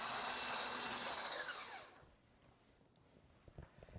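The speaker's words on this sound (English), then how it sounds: "So we're going to whisk this together until it gets fluffy." Egg yolks being whisked until fluffy make a loud, steady whirring rush for about two seconds, then cut off, leaving only quiet room tone with a few soft knocks.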